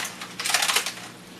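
Foil crinkles and rustles as it is peeled back from a whole lemon-herb chicken fresh from the oven, a short close burst of crisp crackling that swells and then fades.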